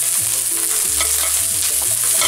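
Eggplant cubes fry and get stirred with garlic in a hot pan, a steady close sizzle broken by repeated scraping strokes of a spoon across the pan.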